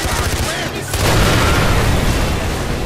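Gunfire from a gun mounted under a vehicle's dashboard in the video game Far Cry 4: after a short pause a loud, dense burst of rapid shots and booms begins and holds at full strength to the end.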